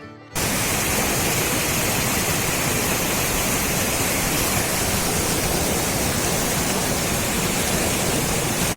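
Mountain water rushing down through the Himalayas in Uttarakhand, a loud, dense, unbroken roar that holds steady from start to end with no voices.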